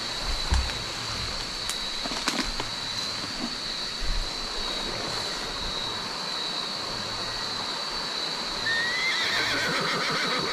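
A horse neighs among clumps of bamboo outdoors, its calls rising out of a steady droning background that carries through the whole stretch, with no talking.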